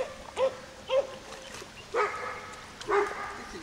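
Several dogs give short yips and barks in four separate bursts, spaced about half a second to a second apart, moderately near, with quiet gaps and faint background between bursts.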